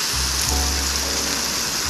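Water pours and splashes steadily onto soil and leaves, a continuous close rushing hiss with a low rumble underneath.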